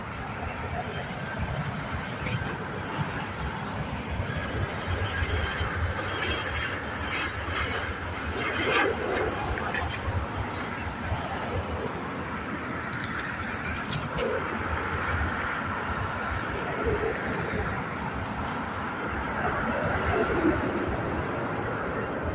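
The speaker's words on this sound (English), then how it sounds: "FR5204. It's Boeing 737 coming in from Sofia." A Ryanair Boeing 737, flight FR5204 from Sofia, comes in to land, a broad continuous roar of engine noise holding steady and fairly loud throughout, with faint voices underneath.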